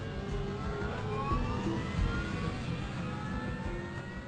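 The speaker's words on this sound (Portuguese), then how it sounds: "grava o som dos motores de dentro da cabine" Aircraft engines heard from inside the cockpit during a test run recreating the crew's actions on Flight 90; a loud, steady, close roar with faint whining tones that slowly shift pitch, no voices.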